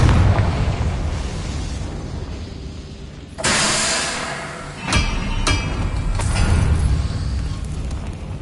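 A Confringo fire spell in Hogwarts Legacy detonates in a loud burst partway through, followed by a second sharper blast and crackling debris over a steady game background, no voices.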